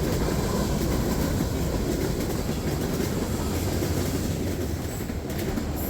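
A freight train of steel coil cars, covered hoppers, boxcars and empty auto racks rolls past close by, a loud continuous rumble with rattling cars and steady clatter throughout, no pauses.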